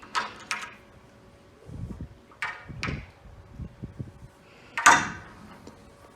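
A cabinet door on a failing Fethers Bestko hinge that will not self-close, giving several sharp knocks and rattles with low thuds between them and a louder bang near the end, close by with no talk.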